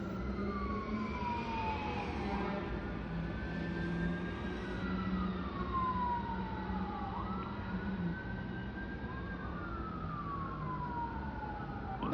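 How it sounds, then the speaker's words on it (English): Emergency vehicle sirens on Christmas Eve, wailing rising and falling tones that overlap as several vehicles pass at a distance over a steady traffic rumble, with no talking. "Oh, at least I'm catching the sirens."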